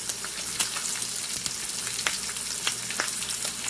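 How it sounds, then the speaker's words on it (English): Steak frying in butter in a pan on an apartment stovetop, a steady close sizzle with frequent sharp pops and spits of butter throughout, no voices. "it's spitting. That's that butter."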